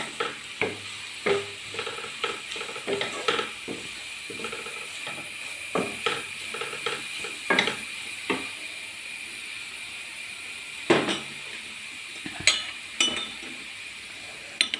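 Crushed chilli mixture being stirred in a pan for banana chilli fry, a spoon scraping and clinking against the metal in an irregular run of knocks over a soft continuous sizzle, close and alone.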